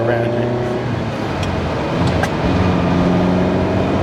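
A Ferrari 308 engine hums low and steady while driving at 2,000 to 3,000 rpm, pitch shifting slightly as it moves through gears, with a voice talking over it.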